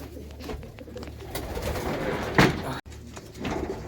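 Racing pigeons coo inside a loft, soft throaty calls repeating among shuffling and a brief bump, with fluttering and room noise throughout and no talk.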